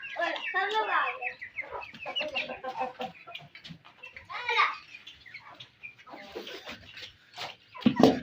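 Chickens and chicks cluck and cheep at close range while being fed in a backyard pet setup, with a person talking over the birds and a voice now and then.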